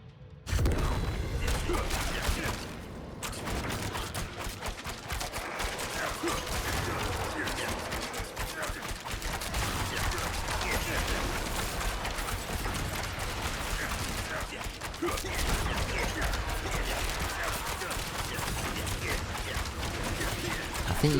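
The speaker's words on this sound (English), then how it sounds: "I wanted the explosion ability on the arrows" Explosive arrows in Diablo 4 burst in rapid, dense volleys of pops and booms over a continuous clatter of combat, sustained and loud throughout.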